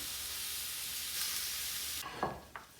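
Okonomiyaki sizzles steadily on a hot griddle, a continuous close frying hiss with a few brief scraping or stirring clatters near the end.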